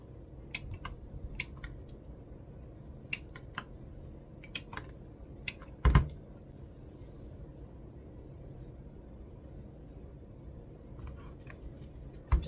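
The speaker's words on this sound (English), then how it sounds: "I'm going to trim these up." Sharp scissor snips cut artificial greenery for a Dollar Tree Easter centerpiece, scattered clicks across the stretch with one louder clunk midway, close and fairly faint over a low room hum.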